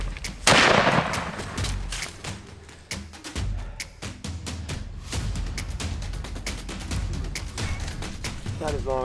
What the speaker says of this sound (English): Okay, shoot him again.